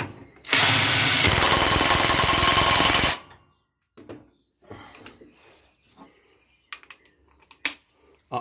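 An impact wrench tightening a bolt to 100 Nm: one loud, continuous hammering burst of about two and a half seconds, then quiet handling clicks and small knocks.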